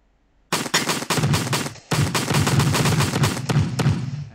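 Rapid bursts of gunfire in a Unity 3D game, a quick run of sharp shots after a moment of silence, a brief gap, then a sustained loud volley with distinct repeated reports.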